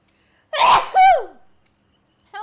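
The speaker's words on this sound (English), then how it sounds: "I have to sneeze." One sharp, close sneeze bursts out, a breathy explosive burst followed by a tonal voiced release, then a brief vocal sound after a pause.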